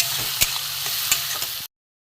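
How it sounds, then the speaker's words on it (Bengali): Onion, garlic, green chili and tomato fry together in a pan, with a bright, dense sizzle punctuated by a few sharp utensil scrapes before it cuts off abruptly into silence. "পেঁয়াজ, রসুন, কাঁচা লঙ্কা, টমেটো একসাথে আমি একটু কষিয়ে নেব।"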